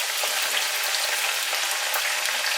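Sliced bitter gourd crackles and sputters in hot oil in a pan, a dense, steady sizzle that stays loud and even, with no talking.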